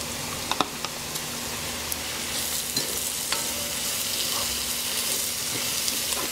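Zucchini stir-frying in a pan for Thai rice with garlic, a continuous sizzle and hiss with scattered light clicks of the utensil against the pan.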